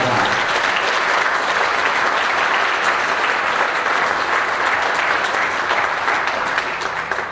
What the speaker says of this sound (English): how about a round of applause for all of us band parents